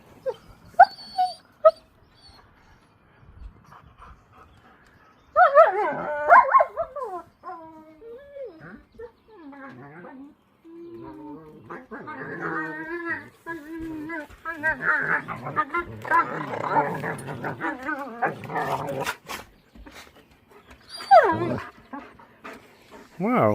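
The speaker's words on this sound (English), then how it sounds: "Got the dogs here." Dogs outdoors on a calm evening, with bursts of whimpering, whining yips and occasional barks, close and fairly loud, coming and going with quiet gaps between them.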